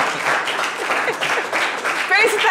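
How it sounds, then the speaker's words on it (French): Audience applauding children at a Christmas special game show, a short burst of clapping mixed with crowd noise and an announcer's voice over it. "On applaudit les enfants."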